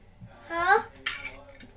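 Pots, pans and utensils clattering in a kitchen while eggs are cooked in a frying pan, a few close metallic clinks and scrapes with a voice speaking briefly alongside.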